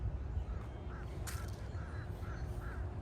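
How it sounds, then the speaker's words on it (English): Crows caw overhead at Walt Disney World during a morning walk, sending out about five spaced, fairly faint calls over a busy outdoor rumble and a brief rustle. "Can you guys hear those crows up there?"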